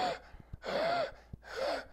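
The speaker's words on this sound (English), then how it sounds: "will start to hear an inspiratory type noise" A calf with laryngeal diphtheria makes three harsh, rasping inspiratory breaths with a squeaky, whistling edge, repeating at a steady rhythm and close by, with no talk.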